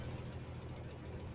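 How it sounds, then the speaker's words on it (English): Car engine idling in icy cold weather during a Texas ice storm, a steady low rumbling drone close by, continuous and fairly quiet, with no talking. "Now one's vibrating because my engine's running because it's cold."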